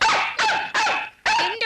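Dogs bark in a series of loud, close, sharp barks with brief gaps between them, set in a Malayalam movie scene at a farm where the dogs have trampled planted seeds.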